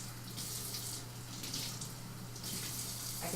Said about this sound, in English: hold on, let me just rinse.